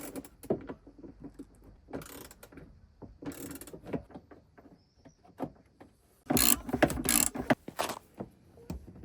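Ratchet wrench driving 10mm bolts into the rear bumper of an Audi Q7, heard as bursts of rapid clicking and mechanical rattling, close up, with a louder dense stretch near the end and no talking.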